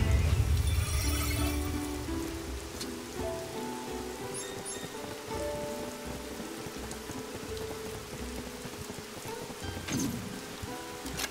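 Steady, dense rain pours in a Final Fantasy video game, a loud continuous hiss with faint musical tones and occasional brighter splashes running underneath.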